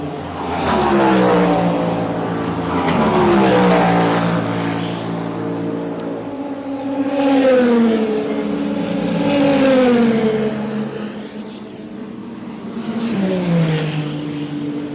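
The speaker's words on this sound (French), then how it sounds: "Ligne droite là-bas. Regardez la vitesse où ils passent. 260 les mecs" Race cars sweep past at high speed on the straight at the 24 Hours of Le Mans, engines rising and falling in loud, continuous overlapping whines as one car after another passes.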